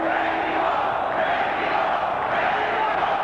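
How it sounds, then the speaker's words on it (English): A large boxing arena crowd chants "Mexico" in unison to urge on Julio Cesar Chavez against Frankie Randall, a loud sustained roar with rhythmic swells of voices throughout. "Mexico is the chant from the crowd"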